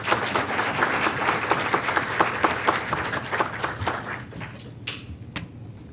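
Audience applause welcoming a speaker at a CyLab business risks forum, dense clapping from a room of people, steady for several seconds before thinning out into a few scattered claps.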